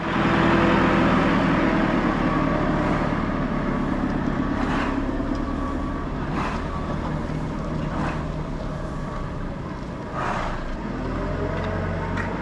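A John Deere 6215R tractor engine drones steadily and loudly while a lorry is loaded in a farm shed, with a few faint knocks and clatters over the constant rumble.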